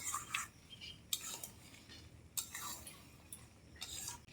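Spiced hog plum pickle stirred in a pan with a metal spoon, giving several short scraping clinks spaced across a few seconds, fairly quiet and close.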